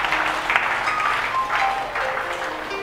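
A church congregation at a live Sunday service claps together, a dense, sustained wash of applause that swells and eases in waves, fairly close, with a faint tone and some voices threaded underneath.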